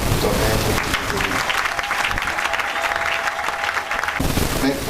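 A church congregation applauding, steady dense clapping from many hands filling the room, with a voice speaking over it toward the start and end.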